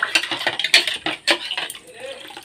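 Conch shell bangles are rinsed in clean water, giving close clinks and knocks of shell against shell and vessel, with splashy rubbing in quick irregular bursts.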